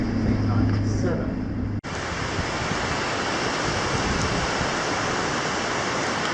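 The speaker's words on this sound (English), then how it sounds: "So this is the Darling River." Water of the Darling River flowing west of Bourke, heard as a loud, steady broadband rush with strong wind noise on the microphone, briefly cut off near the start and then continuing unbroken.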